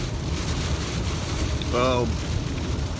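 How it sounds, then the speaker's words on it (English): Heavy rain pours down in a steady, dense hiss that fills the whole clip without pause, with a brief faint tonal whine rising partway through. "It is raining like cats and dogs."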